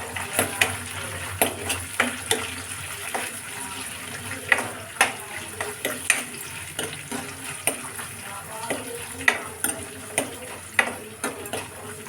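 Green peas fry in a pan, with a steady soft sizzle under repeated light scrapes and clacks of stirring at an irregular pace, heard close and without talk.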